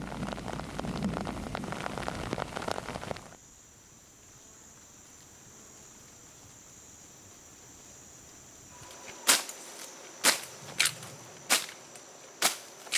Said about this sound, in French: la pluie est souvent de courte durée en cette saison